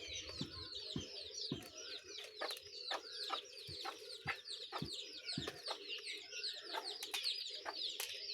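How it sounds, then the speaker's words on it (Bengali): A flock of chickens clucks continuously while young chicks eat from bowls at a village farmstead, with dense chirping and sharp taps of pecking against the bowls throughout. "এই যে মুরগিগুলো দেখতেছেন"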